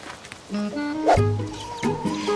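Chickens bought at a market cluck and squawk in a few short, close bursts, with a clearer call near the middle of the clip and another near the end.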